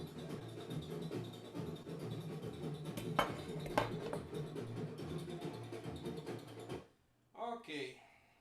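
Samba frigideira, a small frying-pan percussion instrument, handled and clattered with metallic clinks and knocks, a couple of sharper strikes in the middle, fairly close over a steady background murmur, then a brief pause and a short voice.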